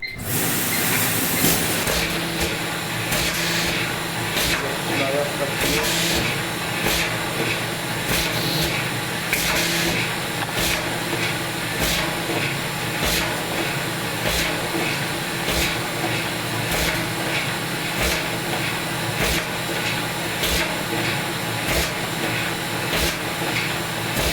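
An FC114A creasing machine runs steadily, a loud continuous mechanical hum with a regular train of sharp clicks or thumps from the creasing action repeating about twice a second throughout.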